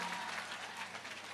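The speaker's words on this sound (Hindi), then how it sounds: "एपी ग्रुप को जोरदार ताली बजा के धन्यवाद दो" An audience at a temple consecration festival in Gurugram claps warmly as thanks, a short steady burst of dense applause with no voices on top.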